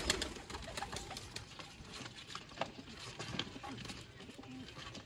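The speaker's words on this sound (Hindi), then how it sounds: "रामपुरी कबूतर किसी ने दिखाए ने" Rampuri pigeons coo softly and intermittently among other birds, with scattered fluttering and pattering, fairly close in a busy pigeon loft with steady background noise.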